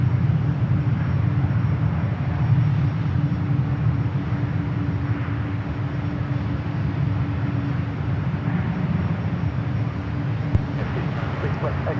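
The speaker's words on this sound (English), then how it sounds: "Airbus A220-300 touching down to 28 right" An Airbus A220-300 touches down on runway 28 right at San Francisco airport, giving a steady, loud jet roar that holds evenly throughout with no break.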